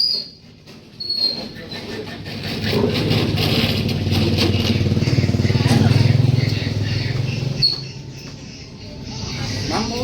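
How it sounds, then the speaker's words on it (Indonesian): A motorcycle engine passes near an open-air soto ayam kampung stall in Ngawi, a rough droning rumble swelling and fading over several seconds while people chat in the foreground. "Din, motor nih."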